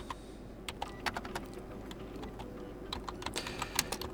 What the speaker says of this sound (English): So, I will type in Tor browser